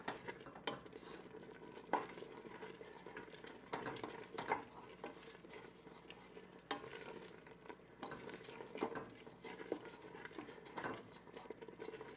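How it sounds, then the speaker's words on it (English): Steady stirring of boiling habanero apricot jelly in a pot with bubbling and spoon scrapes, irregular clinks and knocks throughout, close and moderately loud, no talking. "I'm stirring it and it's still boiling"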